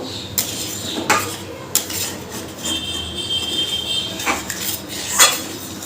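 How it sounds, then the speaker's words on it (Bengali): A spoon clanks and scrapes against a metal pot as chicken meat is stirred together with hot water, giving sharp irregular knocks and a brief ringing tone. "গরম জলটা দেওয়ার পর খুব ভালো করে মিশিয়ে নেব"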